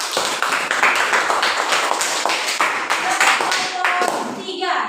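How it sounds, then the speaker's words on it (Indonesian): A classroom group of students claps for the second presenting group, a dense run of overlapping hand claps lasting several seconds at close range, fading toward the end with some voices mixed in. "berarti aplaus untuk kelompok 2"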